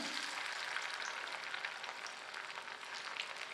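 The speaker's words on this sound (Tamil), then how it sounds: "இப்போ மீன் துண்டுகளை பொறிச்சு எடுத்துக்கலாங்க அதிகமாக எண்ணெய் சேர்க்கல அளவாக தான் சேர்த்திருக்கேன் மீடியம் ஃப்ளேமில் வச்சு பொறிச்சு எடுத்துக்கும்போது சரியாக இருக்கும்" Fish pieces fry in a modest amount of oil over a medium flame, making a soft, even sizzle that stays faint and steady throughout.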